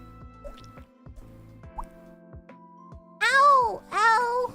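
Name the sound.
mouth imitation of a water droplet sound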